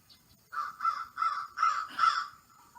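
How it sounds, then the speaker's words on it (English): A crow caws five times in a steady rhythm, harsh and fairly close, with a faint outdoor background and no talking. "his broad black wings carry him up as he squawks 4 times."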